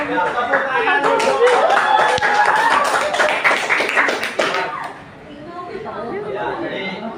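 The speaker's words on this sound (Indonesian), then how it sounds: "tepuk tangan dulu" A group in a classroom claps together in a lively burst for about four seconds, mixed with chatter and a few laughs. The clapping stops and quieter murmuring talk carries on.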